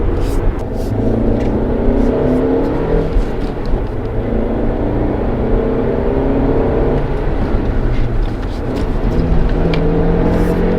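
Fiat 500X Lounge with a 1.4 MultiAir 140 hp engine accelerating on the road, a steady loud engine drone with rising and falling pitch from inside the car, no talking over it.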